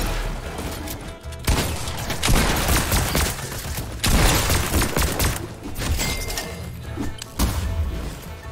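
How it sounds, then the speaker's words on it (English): Rapid gunfire in a video game sounds in loud, dense bursts of overlapping shots, with brief lulls between volleys. "That last shot when Nate Hill was at 6 HP, perfection."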